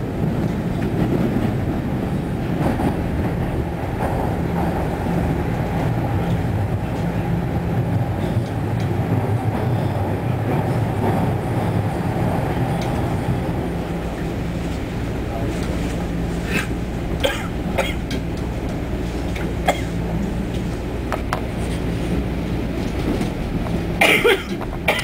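A Toronto TTC subway train, car 5611, running between stations: a steady low rumble and hum from the moving car, with faint rattles and clicks building toward the end, and a cough or two nearby.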